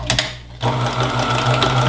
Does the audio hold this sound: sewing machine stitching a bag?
yes